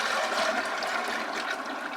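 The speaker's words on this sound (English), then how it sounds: "So I'm pouring this batch into my handy Home Depot bucket." Hot 2:1 sugar syrup for bees being poured into a plastic Home Depot bucket, a continuous close rushing splash of liquid lasting two seconds with no pauses.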